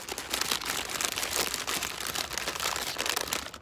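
Crinkling of a small paper fast-food packet holding fried shrimp from Vkusno i Tochka, a steady rustle close to the microphone throughout, with no talking.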